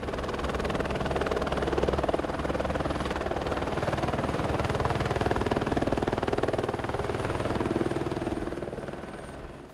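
A helicopter carrying an airborne electromagnet flies over a proposed tunnel route in Bhutan, its steady rotor thrum and engine drone loud and continuous throughout, with no voices.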